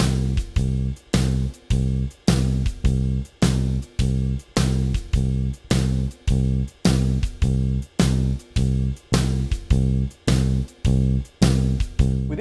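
Electric bass plays blues quarter notes on the root alongside a drum track, a steady, evenly spaced pulse of deep plucked notes with crisp drum hits, looping for the whole stretch at a moderate, even level.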